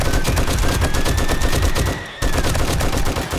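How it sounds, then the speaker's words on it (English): Automated turrets in the 7 Days to Die Darkness Falls mod firing rapid continuous bursts at a reinforced titanium base, loud and close, with a brief gap before the fire resumes. "my turret's are firing over here"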